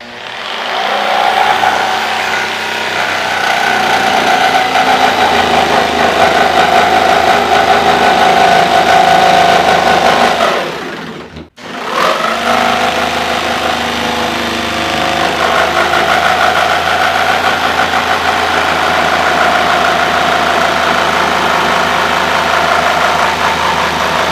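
A jigsaw saws through a long wooden board, its motor running at a steady loud buzz for about eleven seconds, stopping briefly, then starting again and cutting on with the same even drone.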